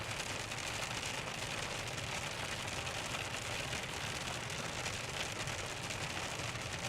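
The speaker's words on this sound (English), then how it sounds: "you can hear the thunder through the rain" Heavy rain drums steadily on a vehicle during a tornado storm chase in Iowa, a dense, even roar throughout with no clear thunderclap standing out and no talk.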